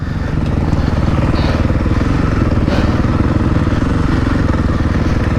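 A 2020.5 KTM 450 SX-F Factory Edition dirt bike with its stock exhaust is ridden in the pits. Its single-cylinder engine gives a loud, steady, close-up rapid thumping drone throughout, with no talk over it.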